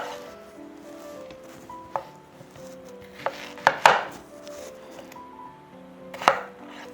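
A knife chops half an onion on a cutting board for a pork bulgogi marinade, a few sparse, sharp knocks spaced irregularly over faint background tones, with no talking.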